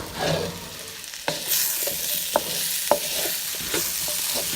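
Peppers sauté in a hot pan for brown stew fish with pumpkin, a steady close sizzle broken by a few soft scraping stirs.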